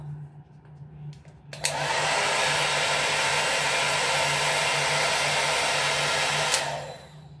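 A BaByliss Big Hair rotating hot air brush on its hottest setting switches on with a click and blows a loud, steady rush of air with a low motor hum for about five seconds before clicking off.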